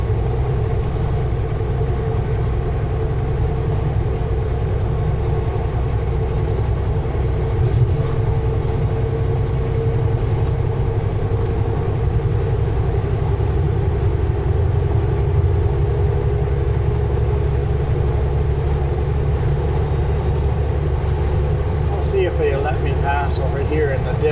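A Super B truck's engine drones at full throttle, a loud, steady low roar held close from start to finish as the rig labours along a highway near Three Valley Gap, with a brief rattle near the end.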